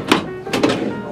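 Drawers in the kitchen of a 1995 Winnebago Vectra 35 RQ motorhome being closed, giving two soft thunks about half a second apart with a faint rattle after each.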